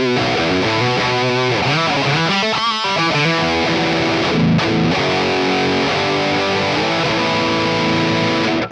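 Electric guitar played through a MESA Mark II-inspired distortion module: thick, saturated chords and single-note lines ring out loud and sustained with short pauses, and no one speaks.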